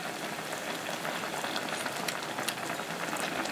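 Tom yum broth boiling again in a pot, a steady close bubbling and hissing that continues evenly with no talk.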